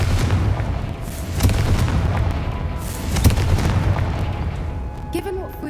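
The Confringo explosion spell in the video game Hogwarts Legacy sets off booming blasts that overlap into a sustained rumbling roar, with sharp cracks and pops at the peaks and a fading tail at the end.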